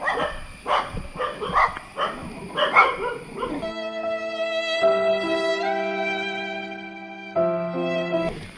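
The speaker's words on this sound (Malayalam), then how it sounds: "അമ്പൂ പട്ടി ഞാൻ നിന്നെ ഒന്നും ചെയ്യില്ല അളിയാ." A dog on the way to a waterfall in Kerala barks in a quick run of sharp, close barks and yips, then the barking gives way to sustained musical tones.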